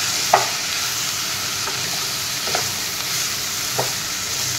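Turmeric powder and salt are stirred into fish frying for a curry. A steady sizzle carries throughout, with a few soft spoon scrapes against the pan.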